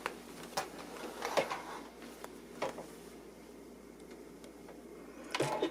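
A sewing machine stitching quilt binding with a back stitch, short mechanical whirring runs separated by pauses and clicks, quiet and close without talk.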